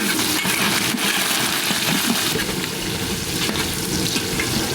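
Green beans frying in hot ghee for fried rice, cooked after cashews and raisins: a loud, continuous close sizzle with crackling and stirring, and no talk.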